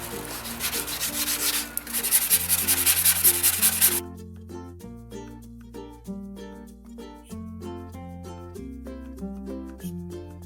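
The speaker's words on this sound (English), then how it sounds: "now we have finished sanding" Steady scratchy rubbing of sandpaper by hand for about four seconds, then it stops and only music continues.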